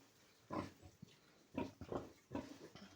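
Pigs grunting and squealing in several short bursts, fairly close, with quiet gaps between them and no talking.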